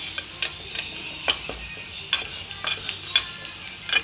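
Onions frying in a hot pan with turmeric while pulao is prepared, a soft sizzle broken by sharp clicks and scrapes of a stirring spoon every half second or so, close up with no voices.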